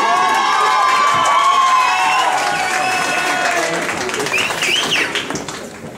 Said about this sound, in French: Candidat numéro 3, sous vos applaudissements.